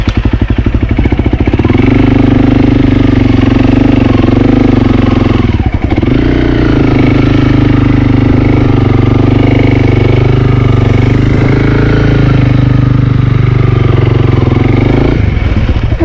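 Honda CRF 300L dirt bike engine idling close by on a muddy, icy trail, a loud steady rumbling putter with a brief dip midway and another near the end.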